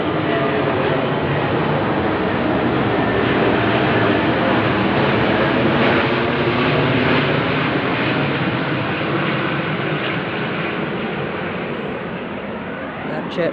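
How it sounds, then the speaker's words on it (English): A jet aircraft passes high overhead, its steady broadband roar holding for the whole stretch and easing slightly near the end. "That jet looks almost over my head to my naked eye"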